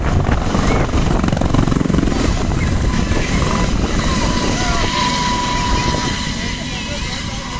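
A helicopter flies overhead in Mizoram while carrying a patient to hospital. Its steady, loud rotor and engine roar stays close throughout, with people's voices mixed into the din.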